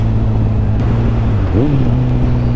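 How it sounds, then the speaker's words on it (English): Motorcycle engine droning steadily up close, with a quick rising rev blip as the rider matches revs on a downshift, amid constant wind rush from riding on the road. "That was a good rev match."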